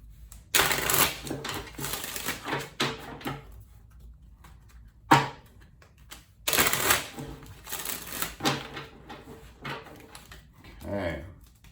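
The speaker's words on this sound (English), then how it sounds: "I'm going to do this quick shuffle and then I'll get into the cards." Tarot cards being shuffled by hand in quick, crisp riffling bursts with short pauses between, close and fairly loud, then a softer rustle near the end.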